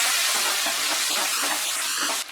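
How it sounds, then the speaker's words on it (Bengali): Okra seasoned with turmeric and salt fries in a pan over medium heat, giving a loud, steady, close-up sizzle and hiss that ends abruptly. "মাঝারি আঁচে ভেন্ডিটাকে ফ্রাই করব।"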